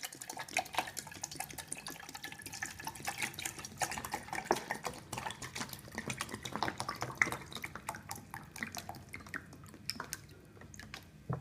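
Water is poured from a container into a collapsible Sea to Summit kettle, making a steady close trickle with splashing drips for about eleven seconds, with no talking.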